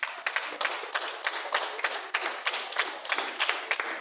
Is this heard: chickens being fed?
no